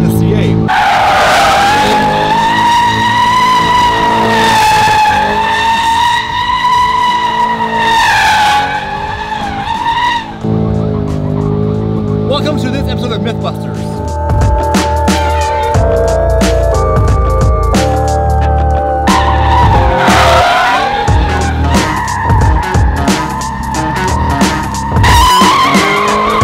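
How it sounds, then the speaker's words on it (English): A 2020 Chevrolet Corvette C8 doing donuts, its tires skidding and squealing loudly in long, continuous wailing sweeps with the engine roaring underneath throughout. "Well, it turns out you can do donuts in the C8."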